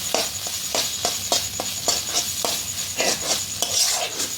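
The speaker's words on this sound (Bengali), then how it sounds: "আমি মশলার সঙ্গে এটাকে ভালো করে একটু মিশিয়ে নিচ্ছি" Scrambled egg being stirred into spices in a pan, a spatula scraping and tapping the metal in a regular rhythm over a steady low sizzle, close and clear.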